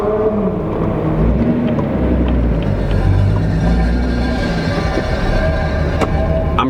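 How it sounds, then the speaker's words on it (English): A car running with a suspected bent brake dust cover rubbing, giving a steady low rumbling drone with faint metallic scraping throughout, close and continuous with no talk. "I have this weird like metal grinding sound. I think it's one of my dust covers on my brakes."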